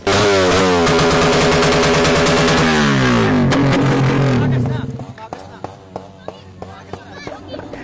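Suzuki Raider 150 FI motorcycle with a loud aftermarket pipe screams through sustained high revs, then drops to a crackling, popping idle with sharp bursts as the throttle falls away.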